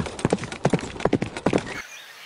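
Horse hooves clip-clop in quick, uneven bursts as a cavalry troop approaches, fairly close and loud for nearly two seconds before cutting to near silence.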